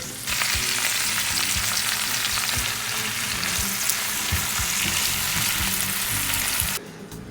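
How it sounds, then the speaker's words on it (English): Spinach tipped into a warm pan on moderate heat sizzles in a loud, steady, dense crackle that runs unbroken for several seconds, then cuts off sharply near the end. "Okay, we're just adding the spinach right in."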